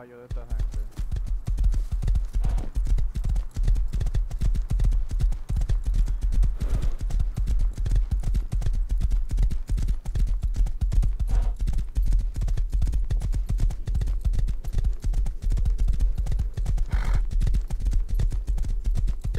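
Horse hooves clip-clop steadily in the survival game Rust, a rapid, regular patter of hoofbeats running through the whole stretch, with a brief whinny and occasional game sounds over it.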